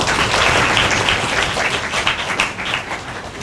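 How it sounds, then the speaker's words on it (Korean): A seated audience at a university talk show in Korea applauds to welcome a student guest, a full, steady patter of clapping that holds for several seconds and then begins to thin slightly. "박수로 또 보시죠."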